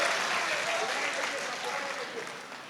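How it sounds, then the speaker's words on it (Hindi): Steady broadband applause from an audience at a mushaira poetry gathering, continuous and fairly loud for the whole stretch, easing slightly toward the end. "तालियां बजा के हौसला अफजाई कीजिए"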